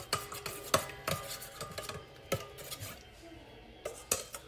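A spoon stirring beef stir fry sauce in a pan, with repeated sharp clinks and scrapes of metal against the pan in an uneven rhythm, close and fairly loud.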